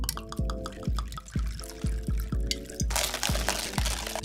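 Liquor is poured into a cup of coffee, with a run of close, bright gurgling drips and glugs and then a louder splashing rush near the end.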